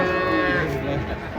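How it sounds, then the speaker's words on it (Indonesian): A single long, low moo from a nearby cow, loud and drawn out with a steady tone. "Sapi ganteng."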